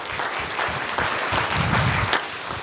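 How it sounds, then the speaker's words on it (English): An audience at a sheriff's citizens' academy graduation ceremony gives a round of applause, a dense, steady patter of many hands clapping at moderate loudness. "One more time, a round of applause."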